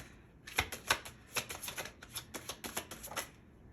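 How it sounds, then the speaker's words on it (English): Tarot cards riffle and slap together as they are shuffled by hand, producing a quick run of crisp, papery flutters close up with no talking. "if I can even shuffle, I got cards falling"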